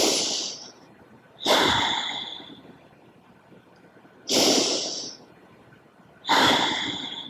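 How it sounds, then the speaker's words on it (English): Slow, deep breaths during seated chair yoga, four long audible exhales or inhales spaced about two to three seconds apart, close and airy, each fading gradually into quiet pauses. "Take 1 or 2 breaths here"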